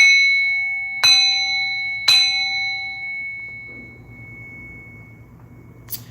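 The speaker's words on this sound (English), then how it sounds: "I just heard ding dong" Two clear bell strikes about a second apart, each ringing out with a long sustained tone that slowly fades, followed by a faint tap near the end.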